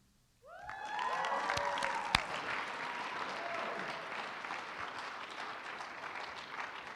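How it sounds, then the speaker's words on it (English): Applause from an audience at a singing performance event breaks out and holds steady, dense clapping with some cheering whoops at the start, fairly loud throughout. "let's give another huge round of applause for all of our wonderful performers so far tonight"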